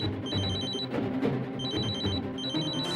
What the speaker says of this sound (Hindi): उन्हीं का फोन है।